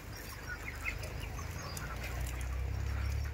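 A crowd of poultry birds on a farm calls continuously at a distance, over a steady low hum and hiss of running sprinklers spraying water.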